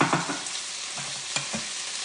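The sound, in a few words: small tomatoes and chopped onion cooking in pan for chipotle pasta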